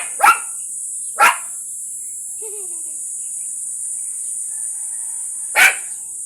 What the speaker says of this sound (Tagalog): Tahol lang tahol sa aso.